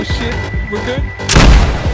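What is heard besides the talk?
C4 explosion blowing open a base in the video game DayZ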